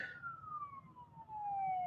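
An emergency vehicle siren wails outdoors in the distance, one long falling tone, heard faintly over a low background rumble.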